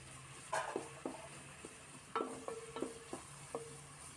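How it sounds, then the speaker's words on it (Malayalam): Chopped medium-sized onion is tipped into a pan for upma and stirred. A spatula scrapes and clinks against the metal in several sharp taps and strokes over a faint sizzle, quiet and close, with no voices. "മീഡിയം സൈസിലുള്ള ഒരു സവാള ചെറുതാക്കി കട്ട് ചെയ്തെടുത്തതാണ് അതിലേക്ക് ഇട്ട് കൊടുക്കാം"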